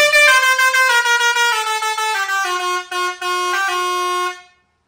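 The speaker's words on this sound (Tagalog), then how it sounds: "sound check na natin yung Basuri Horn project sa unit ni Boss EJ." A custom car horn from a shop's horn project sounds a loud, musical sequence of bright tones, several short blasts followed by longer held notes over about four and a half seconds before cutting off, with no talking.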